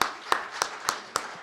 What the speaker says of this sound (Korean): 우리 송임모 장관님한테 박수 좀 부탁합니다